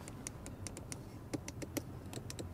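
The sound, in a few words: car door window lever clicking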